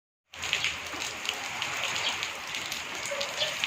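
Steady rain pours onto a rooftop area while rubbish and debris are cleared away to keep the water from pooling and flowing back toward the rooms. The dense, even patter runs close and continuous, with no voices.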